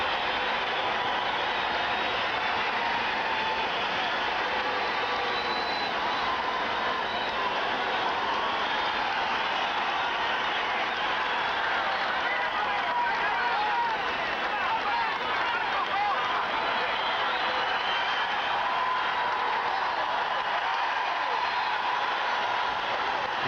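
A crowd of nearly 7,000 at a boxing reception in Regina for a Canadian heavyweight champion, a steady, dense roar and murmur of many voices filling the hall throughout, with an announcer talking over it.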